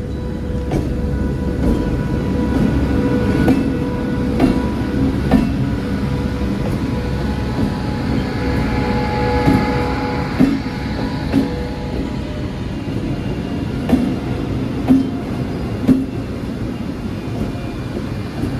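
A freight train rolls past on a railway line in India. A loud, steady rumble of wagons continues for the whole stretch, broken by regular metallic clacks of wheels over rail joints.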